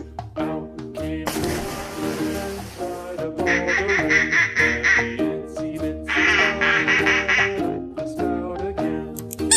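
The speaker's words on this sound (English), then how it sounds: "Yellow duck." A toy duck for toddlers quacks in loud nasal bursts over bright, steady children's music, with several quacks spread across the passage.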